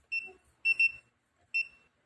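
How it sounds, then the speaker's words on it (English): A clamp meter's non-contact voltage detector near a live wire gives three short, high electronic beeps with pauses between, faint and clear with nothing else around. "This stands for non-contact voltage, and it should beep."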